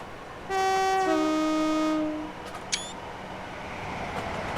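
A BR Class 444 Desiro train in a train simulator slows under heavy braking, a loud tonal whine sliding downward in pitch for a couple of seconds before fading, followed by a sharp brief click.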